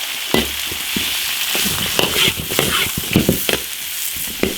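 Pickled salted greens stir-fry in a wok with cured pork, ginger, scallion and pickled chilies, giving a steady close sizzle broken by repeated scraping clacks of a spatula against the pan.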